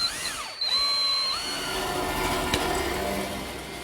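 A power drill whirs and winds down while driving screws into a wooden cleat for a dining table, its pitch sweeping up and down across a few seconds over a steady workshop hum.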